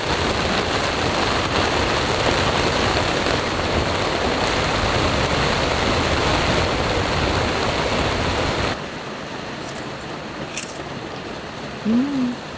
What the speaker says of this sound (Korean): 일단 빗소리도 너무 좋고